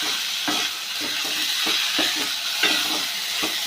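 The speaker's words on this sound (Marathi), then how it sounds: "तर साबुदाणा देखील आपण परतून घेऊया." Sabudana and grated potato are stirred in a sizzling pan, steady frying hiss broken by regular scraping strokes of a spatula, close up with no talk.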